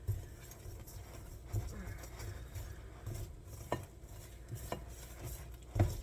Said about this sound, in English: So take my whisk and mix that in.